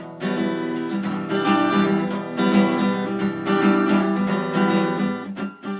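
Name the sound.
guitar chord progression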